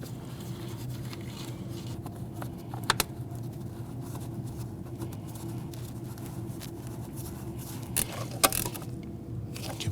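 A ratchet snugs the four 8mm intake shield bolts on a 2014-2023 Jeep Cherokee, with steady close clicking over a low hum and a few sharper metallic knocks near the end.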